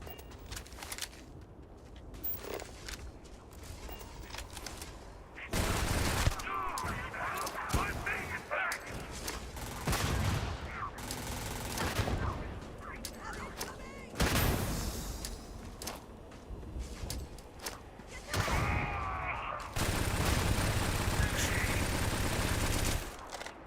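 Automatic gunfire from the space shooter game Starfield, bursts of rapid shots starting around six seconds and recurring in loud clustered volleys over the rest, mixed with game effects and occasional quieter stretches.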